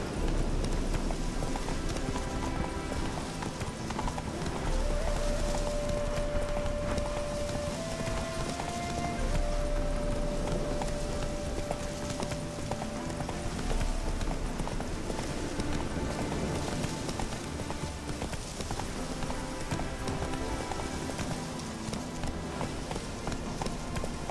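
Steady clip-clop of horse hooves at a running pace, continuous and fairly loud over a dense background of game ambience and a held tone, with no clear speech.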